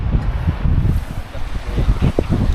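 Gusty wind buffets the microphone in low, rumbling bursts, loud and close, with a faint rustle underneath, on a cold morning along the Bonnet Plume River in the Yukon.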